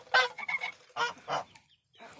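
Geese kept with ducks and chickens give a few loud, close honks in quick bursts, separated by brief pauses.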